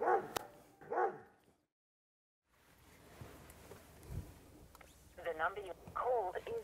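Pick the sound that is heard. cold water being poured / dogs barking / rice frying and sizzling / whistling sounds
dogs barking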